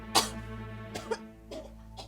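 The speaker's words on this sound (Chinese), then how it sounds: "哎，你不咳嗽呢吗？" A few short, sharp coughs spaced across two seconds, close and fairly quiet, with a faint steady hum underneath.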